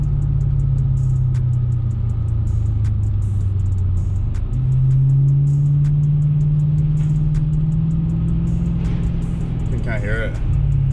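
An Infiniti Q45 fitted with a stage 3 intake gives a loud, continuous low engine drone inside the cabin, holding steady throughout with a slight pitch rise midway.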